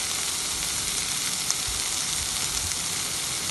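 Spices such as Kashmiri chili, turmeric, jeera powder and garam masala sizzling in hot oil in a pan for methi ghugni, a steady close frying hiss with faint stirring bumps.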